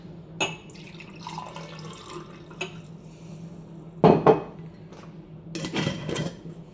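A homemade beetroot and carrot kanji drink is poured nearby in short splashy bursts, with light clinks of a glass or jug between them. Nobody speaks.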